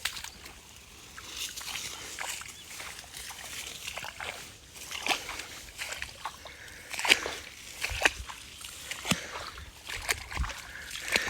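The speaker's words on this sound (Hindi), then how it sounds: "गोडे गोडे खड़े पानी में इस तरह झोलियाँ बांध कर काटना शुरू कर दिया फसल को" Water sloshing and splashing as a mung bean crop is cut by hand in knee-deep floodwater in a Sindh village field, irregular soft splashes and trickles close by, with no talking.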